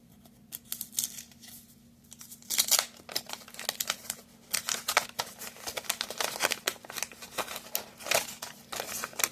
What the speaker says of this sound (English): we're going to open up a pack of 2 packs of star stickers from